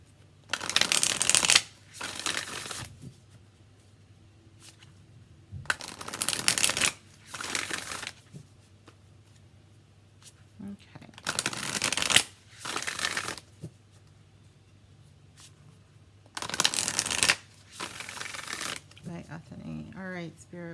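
Modern Love Tarot cards are shuffled in repeated bursts of crisp riffling and flapping, separated by quieter pauses, close to the listener, with a voice talking faintly at times in between.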